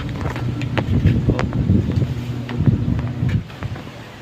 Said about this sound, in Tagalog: Grabe lakas ng hangin dito, ilang araw na.